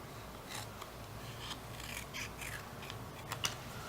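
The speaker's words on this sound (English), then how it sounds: "We're going to cut this one down the middle." Scissors cutting a sheet of paper straight down the middle while making 3D papercraft Koopa Troopa legs: a few short, crisp snips and paper rasps, close and fairly quiet, no talking.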